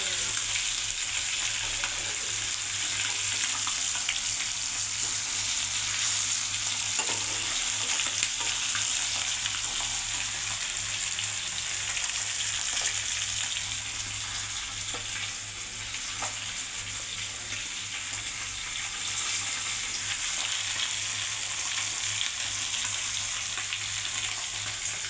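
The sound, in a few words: frying nichla fish in a pan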